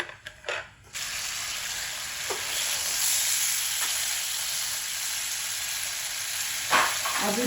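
Chicken pieces with a little added water sizzle and fry steadily in a pan, a loud continuous hiss after a few brief clicks at the start, with faint stirring knocks.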